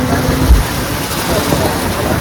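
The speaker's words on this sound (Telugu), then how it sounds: "వెదర్ మంచిగా ఉంది, మంచిగా వర్షం." Steady rainfall patters on the surroundings in a brief, loud hiss with a low rumble underneath, continuous throughout.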